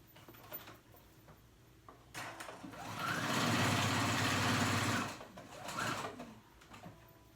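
A sewing machine stitches stretchy swimsuit fabric with a zigzag stitch, running in a steady whirring burst for a couple of seconds before slowing to a stop, with quieter handling noise around it.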